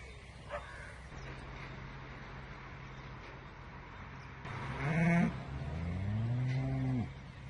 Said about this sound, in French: avec un troupeau de vaches